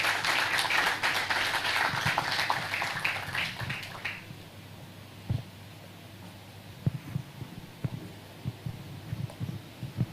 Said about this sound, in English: Please give us a round of applause for Zain Ibrahim.